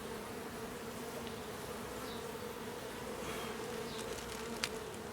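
Honeybees from a newly installed bee package drone in a steady, even hum. The buzz is soft and continuous with no voices over it, and individual bees flit closer now and then.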